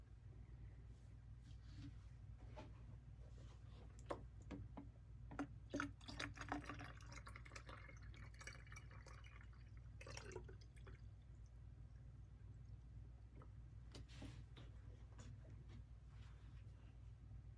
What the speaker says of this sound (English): Let me add some more water in here.